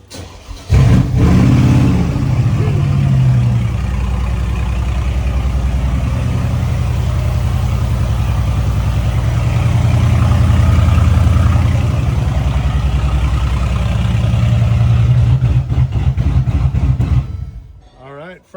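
A Mercedes 6x6 engine, run for the first time in a year, cranks and catches, then settles into a loud, steady idle with slight rises in revving before cutting off at the end.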